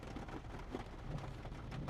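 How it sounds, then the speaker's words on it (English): Heavy rain drums steadily and densely on a car's body, a continuous close patter with no pauses and no voices. "It's raining pretty hard compared to when I was outside."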